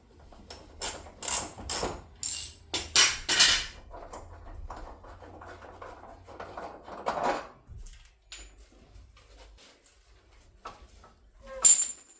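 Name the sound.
ratchet undoing chassis bolts on Land Rover Discovery 2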